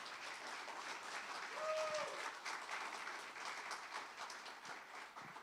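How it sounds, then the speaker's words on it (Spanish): A church congregation applauds as Pastor Daniel comes forward, a soft, distant, even patter of clapping that carries on through the whole stretch. "recibámoslo con un aplauso, por favor"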